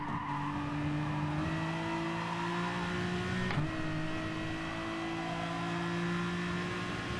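A Hyundai touring race car in a racing video game, its engine holding a steady high-revving drone that drops sharply at a gear change midway, then climbs again, with faint tyre scrub underneath.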